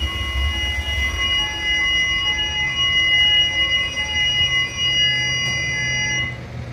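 On a ship's engine control panel, a UPS power-failure alarm holds a steady, continuous electronic tone over low machinery rumble, stopping just before the end.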